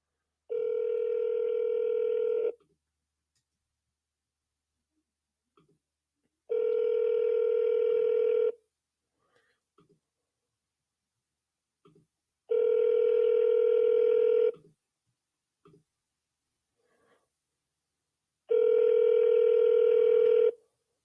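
Four long, loud telephone ringback tones pulse at an even pace with about four seconds of quiet between them, heard alone while a call to a lady's number waits to connect.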